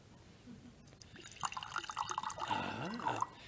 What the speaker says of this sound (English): Suppose I pause to pour us each a glass of Petri Sherry.